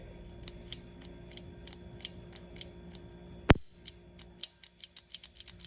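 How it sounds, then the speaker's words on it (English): A handgun trigger pulled slowly gives off a series of small, close ticking and grating clicks, with one sharp loud snap partway through followed by more faint scraping clicks. "whenever I pull the trigger slowly, you can hear the grating, like there's sand in it"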